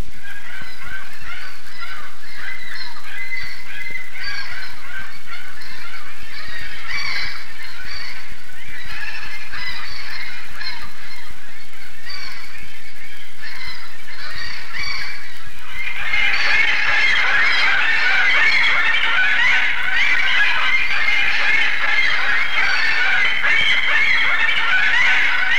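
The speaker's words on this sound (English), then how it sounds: "The birds have always nested on these cliffs in the spring and summer." A dense colony of seabirds calls from nesting cliffs in spring, producing a continuous honking clamour that swells sharply louder partway through.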